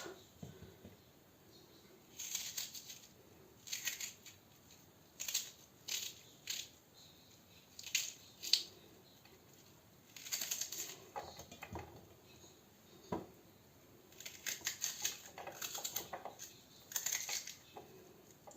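An onion being diced into cubes by hand with a knife, held in the hand rather than on a board: a steady series of crisp, close cutting clicks in irregular bursts, quiet between strokes.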